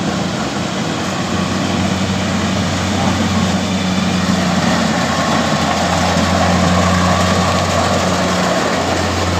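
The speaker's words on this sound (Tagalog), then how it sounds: "ganyan po kabilis kapag ka dalawang makina ang gumagana" The engines of two machines, one a Kubota, run continuously while harvesting a rice field, loud with a deep rumbling drone, close by and unbroken throughout, no voices.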